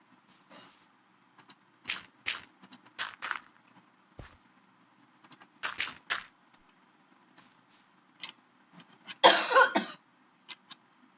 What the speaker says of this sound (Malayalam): ഭയങ്കര ചുമ